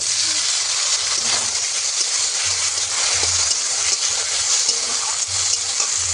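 Tomatoes dropped into onions already frying in a pan for a fish curry, giving a loud, continuous hissing sizzle with occasional stirring scrapes and low clunks.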